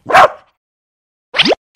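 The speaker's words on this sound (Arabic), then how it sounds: "نباح الكلب." A dog gives two sharp, loud barks close by, separated by about a second of silence, the second bark ending in a rising yelp.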